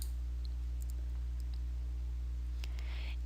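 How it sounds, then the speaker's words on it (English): A couple of faint, sharp computer mouse clicks sound over a steady low electrical hum in an otherwise quiet room. "So I'm going to click on the title of the course."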